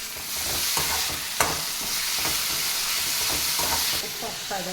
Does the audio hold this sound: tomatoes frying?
yes